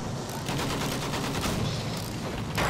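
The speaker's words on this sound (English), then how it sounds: "I'm gonna go for a quick mortar shot." Battlefield 1 combat with a dense barrage of overlapping gunfire and explosive booms, loud and continuous, including a mortar shot amid the steady crackle of battle.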